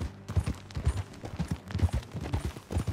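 Horse hooves clip-clop at a steady riding gait in Red Dead Redemption 2, close and fairly loud, with a low rumble of movement beneath the rhythmic beats.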